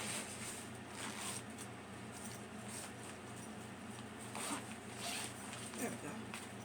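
A zipper on a suitcase is pulled open in a long, steady rasping run that lasts several seconds, close and moderately loud, with faint handling noise and no talk over it.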